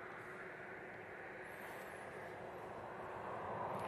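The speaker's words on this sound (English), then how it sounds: "So just as the DHL is taxiing towards us" A DHL cargo aircraft taxis at East Midlands Airport, its engines a steady broadband roar at moderate distance that swells slightly toward the end, with no talk over it.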